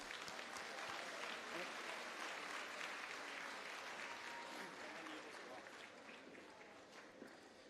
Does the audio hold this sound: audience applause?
yes